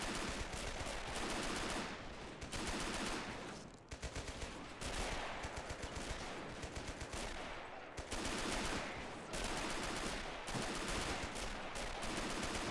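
Sustained, loud gunfire from the Men of War Assault Squad game fills the scene, with dense machine-gun bursts and rifle shots during a WWII-era commando raid on a Norwegian coastal headquarters, and only brief dips between volleys.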